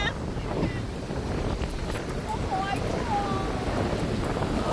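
Atlantic ocean waves washing onto a Florida beach with wind buffeting the microphone, a steady broadband surf roar filling the whole stretch, with faint voices in the background.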